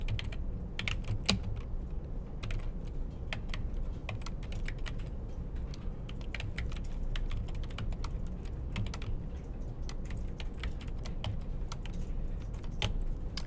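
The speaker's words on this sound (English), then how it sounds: "And there's a whole lot of typing to get that instantiated" Steady computer keyboard typing while coding a Flash game clatters on, a continuous stream of quick key clicks with occasional sharper taps over a low background hum.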